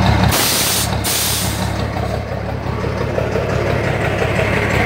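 A Mercedes-Benz 1721 truck with a turbo and a semi-direct exhaust, its injection pump over-fuelling, runs loud and close with a steady rumbling idle; brief bursts of airy hiss come near the start.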